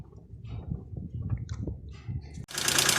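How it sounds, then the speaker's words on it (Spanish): An idling car engine rumbles and shudders unevenly for a couple of seconds, then cuts out abruptly with a brief drop before a loud broadband whoosh follows at the end. "El motor puede estar en ralentí y de repente apagarse. Empieza a temblar y finalmente termina apagándose,"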